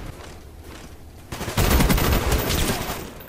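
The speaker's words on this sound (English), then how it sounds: "This gun shoots 3 bullets all at one time." A burst-fire gun in a video game opens up after a quiet stretch, with a loud, dense rattle of shots that fills the last half of the moment.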